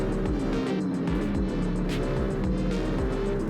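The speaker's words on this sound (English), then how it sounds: "There is so much traffic on this bridge." Traffic noise from cars crossing a bridge in a driving video game, a steady engine drone with repeated whooshes of vehicles passing close by, no talk.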